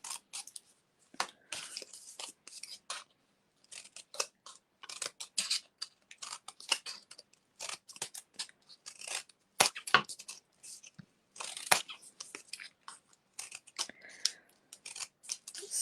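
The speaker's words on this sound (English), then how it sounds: "I recently bought myself these new paper scissors, and they're amazing. They're so sharp." Sharp paper scissors snipping paper snowflakes, a long series of quick, crisp close cuts in irregular bursts with brief pauses between them, no talking.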